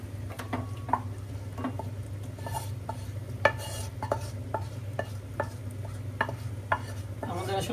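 Potatoes fry in a pan with onion, garlic and green chili, a low steady sizzle under repeated clinks and scrapes of a spoon stirring against the pan, close and fairly quiet.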